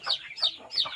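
Chickens kept on a small backyard farm clucking, three short bright calls in a steady rhythm, close and fairly loud, with no one talking.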